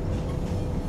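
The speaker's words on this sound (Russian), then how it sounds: "мы сели в тайский поезд." A Thai train at a station at night gives a steady, close, low rumble that carries on without a break through the short moment.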